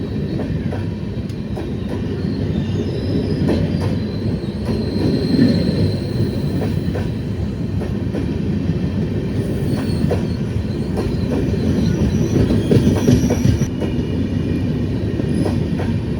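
The Chamarajanagar–Mysuru–Tirupati Express rumbles steadily past at close range near Bengaluru City Junction, with a continuous roar of wheels on rails, rhythmic clacking and occasional high metallic squeals.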